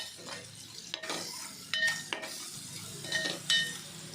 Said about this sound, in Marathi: आता आपण हे परतवून घेऊया याच्यामध्ये तेलामध्ये